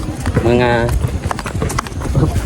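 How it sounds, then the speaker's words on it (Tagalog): Horse clip-clopping along with hooves knocking in a loose, uneven rhythm, close by, mixed with a horse's whinny-like sound and people talking over it outdoors. "Sasakay ng kabayo."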